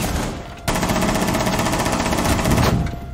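Rapid automatic gunfire in Rainbow Six Siege during a tense 1v3 round, a dense sustained burst of shots running loud and continuous for most of the clip after a brief quieter lead-in, with no talking.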